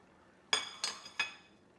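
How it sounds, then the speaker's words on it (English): A spoon stirs shrimp into risotto in a pot, giving three quick, close metallic clinks spaced evenly over a quiet background. "We're going to stir those in."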